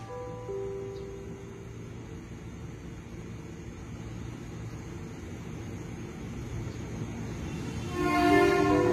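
A commuter train in the Jakarta KRL network rolls into a station platform during morning rush hour, a steady low rumble of wheels and motors building slowly, with a louder rise and bright squeal near the end.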